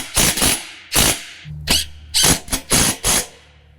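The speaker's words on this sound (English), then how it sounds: "go ahead and put in our next bolt here and get the nut started on it. We'll tighten both of those up." A bolt and nut being tightened on a string trimmer mount for a John Deere Z735M zero-turn mower, heard as loud, close, rapid ratchet bursts repeating about six times in quick succession, with a brief low mechanical hum in between.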